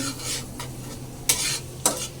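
Chili and butter sizzle in a hot pan at home, a steady frying hiss with two sharp utensil scrapes or stirs against the pan, close up and without voices.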